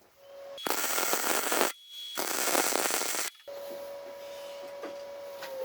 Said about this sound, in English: Let's weld it in.